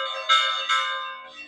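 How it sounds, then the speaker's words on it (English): Church bells ring out in a valley village at the start of its fiesta, two resonant strikes close together with a long humming decay and a fainter third stroke trailing off. "for everyone that hasn't heard church bells in a while, this church rings on the hour, on the half hour, every day."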